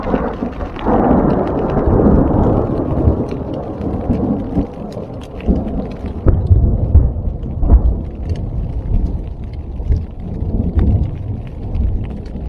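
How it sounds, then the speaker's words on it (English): Close thunder in a storm on the Colorado Trail, a loud rolling rumble that swells early and then keeps grumbling under steady rain pattering nearby. "I've never heard thunder that close to me."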